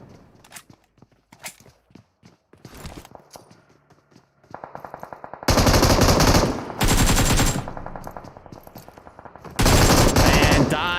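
AK rifle gunfire in PUBG Mobile during an all-star esports tournament match: light footstep-like taps lead into loud, sustained bursts of fully automatic fire separated by brief gaps.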